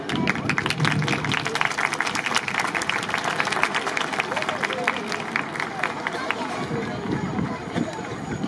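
Crowd at an outdoor Japanese YOSAKOI festival main stage clapping in rhythm with a flower-hat dance team, steady dense handclaps with shouting and chatter throughout, loud and continuous.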